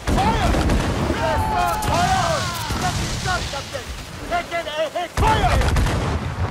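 Ship cannons boom repeatedly in a naval battle in the Assassin's Creed 4 Black Flag game, loud dense volleys running throughout under shouting voices and a brief lull near the end.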